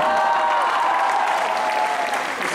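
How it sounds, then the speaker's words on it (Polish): Audience applause after a New Year's concert: steady, dense clapping from a full crowd, sustained at an even level throughout and easing slightly at the end, with no voices over it. "Jeszcze raz brawa dla wszystkich wykonawców."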